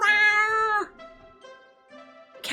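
Kitty, a cat in the Choices: Stories You Play game, lets out a long, loud, tonal meow, then two softer, drawn-out mews follow after a short pause. Each call is clear and close with no talk.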